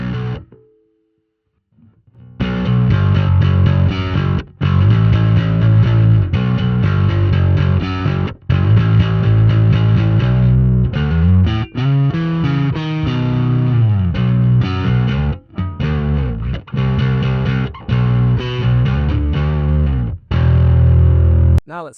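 A bass guitar runs through a Sonicake Matribox II Pro on an aggressive drive setting, giving a loud, close, heavily distorted riff of punchy notes and slides that plays for about twenty seconds after a brief quiet start.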